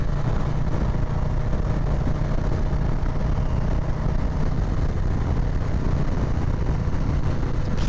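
A 2020 Harley-Davidson Low Rider S motorcycle engine rumbles steadily while riding, a dense, continuous low drone mixed with wind rush, holding at a constant level throughout with no talking.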